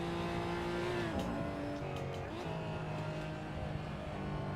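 GTE racing car engine in a driving game, a close steady engine drone whose pitch drops sharply as the car slows into a corner, then climbs and holds again as it accelerates out, with brief scrubbing bursts.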